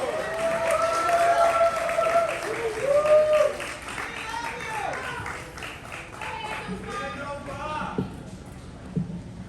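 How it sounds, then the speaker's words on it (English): A crowd at a poetry slam bout applauds in a steady round of clapping, with voices and cheering tones heard over and under it before the noise thins out. "Y'all applaud that."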